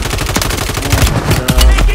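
Loud, close bursts of rapid automatic gunfire in a Call of Duty multiplayer match, with rattling shots mixed with heavy low impacts and faint talk underneath.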